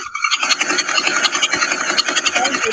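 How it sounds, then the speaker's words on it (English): Pulsar radio emission shifted up into the audible range, a higher-frequency pulsar heard as a dense, fast rasping buzz of rapid clicks, steady and loud throughout with no voices. "We can move to a pulsar now with a higher frequency."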